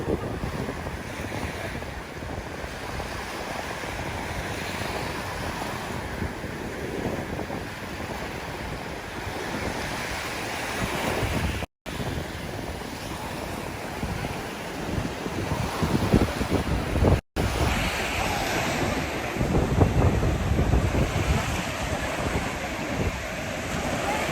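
Steady wind buffeting the microphone over a constant rush of surf, with two brief dropouts and gusts growing stronger toward the end.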